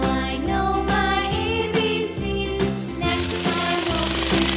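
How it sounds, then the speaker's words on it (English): A jackhammer hammers in a loud, rapid rattle, mixed with steady melodic background music throughout. "Jackhammer."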